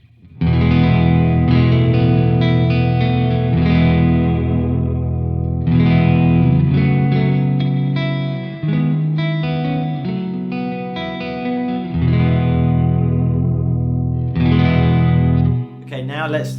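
Offset electric guitar on the neck pickup, played through effects, with shimmering chorus and a touch of grit, sustained chords and arpeggiated phrases ringing continuously at a steady, fairly loud level.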